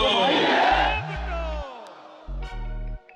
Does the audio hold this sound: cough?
no